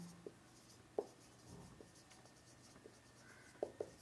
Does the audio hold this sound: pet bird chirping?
no